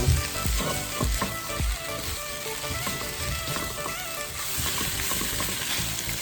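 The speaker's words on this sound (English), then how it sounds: "All you want to do is you want to get these veggies fried and cooked up." Vegetables sizzle and crackle steadily in hot oil in a pan for a shrimp and chicken stir fry, with occasional stirring scrapes and bumps, close and continuous with no talking.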